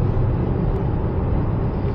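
A Tata Altroz hatchback picking up speed on cruise control, heard from inside the cabin as a steady low road and engine rumble with no clear rise or distinct events.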